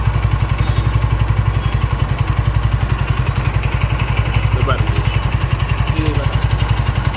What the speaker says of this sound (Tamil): நம்ம வந்து ஐட்லிங் குறைச்சிக்கலாம், ஏற்றிக்கலாம்.